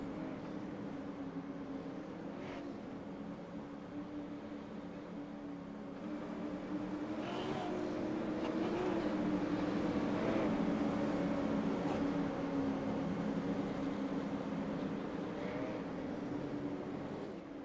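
Grassroots super late model race cars roar around the dirt oval at Thompson in iRacing, a steady engine drone that swells louder after the pace car pulls off and the field gets going.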